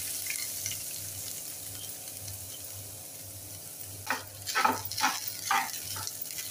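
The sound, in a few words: fresh grated coconut roasting in oil in a pan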